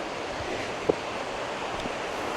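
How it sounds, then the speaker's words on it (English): Creek rapids below a canal trail in the wilderness give off a steady, distant rush of water, broad and unbroken with no voices. "can you hear that waterfall down there? It's kind of a rapid more than a waterfall."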